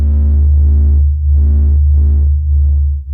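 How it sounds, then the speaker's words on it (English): Pressure-wave vibrations of the sun sped up into audible range, heard as a deep steady hum with throbbing, pulsing swells of higher tonal overtones rising and fading in a slow rhythm. "This is the sound of the sun singing."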